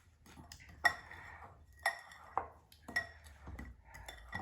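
Plain breadcrumbs, cheese and salt stirred together with a utensil in a bowl, giving a run of distinct clinks and scrapes against the dish, close and fairly quiet, with no talking.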